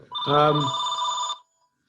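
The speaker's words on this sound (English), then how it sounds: "my phone's ringing" A telephone rings once in a continuous electronic tone lasting about a second, with a voice speaking over its start, then silence.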